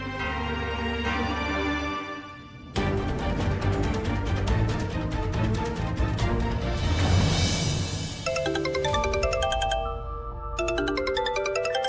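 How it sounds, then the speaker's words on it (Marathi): A mobile phone ringtone plays a bright, electronic melody of repeated tones, loud and close, with no talk over it. "सावंत काकांचा फोन."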